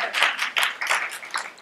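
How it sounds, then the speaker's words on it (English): Brief burst of audience applause after a talk on the Pomegranate Python library for probabilistic models, with scattered, uneven claps at moderate loudness and no one speaking over it. "I think that applause may be premature"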